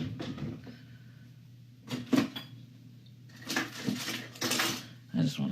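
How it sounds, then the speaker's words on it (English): Cutlery and dishes clatter in a home kitchen while a spoon is fetched during German chocolate cake frosting prep, with several short bursts of clinking and rummaging at close range over a low steady hum. "Let me get a spoon."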